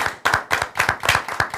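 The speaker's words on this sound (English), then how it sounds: "You guys give them a round of applause." Rhythmic, fairly close clapping from a small group during a talk show, about seven distinct claps in a quick even beat, with no talk.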